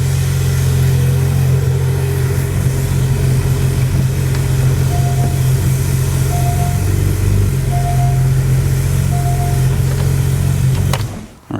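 A car engine runs steadily as the car climbs custom ramps onto a Twin Busch scissor lift, with a loud, even low drone and a few faint beeps before it cuts off at the end.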